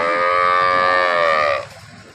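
A single long, loud cow moo close by, steady for about a second and a half before cutting off, among a herd of high-yield dairy cows.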